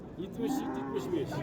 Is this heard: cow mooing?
yes